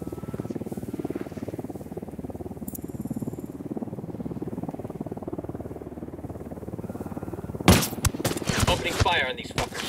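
Bursts of game gunfire from Ghost Recon Wildlands break out loud and close, sharp rapid shots with echoing tails, after a stretch of radio chatter and voices in a tense firefight.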